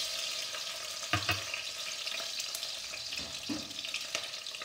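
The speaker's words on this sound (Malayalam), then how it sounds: "ഒരു കപ്പ് ചെറിയ ഉള്ളി, ഇതൊന്ന് നന്നായിട്ട് വഴറ്റിയെടുക്കുക ലൈറ്റ് ബ്രൗൺ ആകുന്നത് വരെ" Small onions sautéing in a pan while cooking a tuna roast: a continuous close sizzle and crackle, with a few sharp stirring knocks and clinks and no voices.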